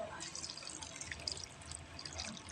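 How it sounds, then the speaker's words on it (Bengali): Water added to a tilapia fish curry in a pot, a short close trickle and splash of liquid with light dripping, faint background noise underneath. "তারপরে এখানে অ্যাড করে দিচ্ছি পানি।"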